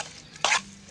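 Grated raw mango being stirred into Ugadi chutney in a bowl, with a couple of short, close scraping strokes separated by quiet.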